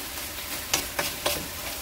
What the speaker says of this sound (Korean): 이렇게 딱 쪼리듯이 쪼리듯이 볶아주세요.